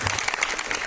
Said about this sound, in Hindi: इनके लिए एक ताली बजाओ दोस्तों।